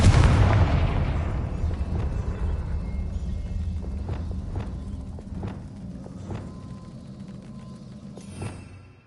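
A Confringo blasting spell explodes in the Hogwarts Legacy video game, opening with a loud boom that slowly decays under a sustained rumble, with sharp cracking debris impacts following and a final burst near the end.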